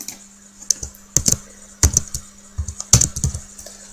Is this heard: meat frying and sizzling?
no